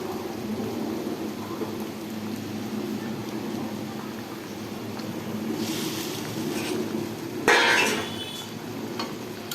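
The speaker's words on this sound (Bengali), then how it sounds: "এই যে আমি মাছগুলো সব ঝোলের ভিতর দিয়ে দিচ্ছি" Fish pieces dropped into boiling curry, giving a steady bubbling simmer with a sudden loud splash and sizzle burst partway through, close and alone without talk.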